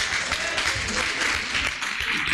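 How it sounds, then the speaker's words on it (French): Church congregation applauding, a steady broad wash of clapping that fills the space without pause, with faint voices mixed in underneath. "Acclame pour toi-même, même si Clap for yourself."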